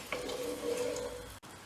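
Butter melting in a pan for a mussels dish, giving a soft, steady close sizzle for a moment before cutting off abruptly.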